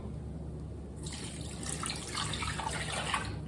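Water splashes and trickles steadily after a second of quiet, a close, continuous pouring sound with small bubbling accents.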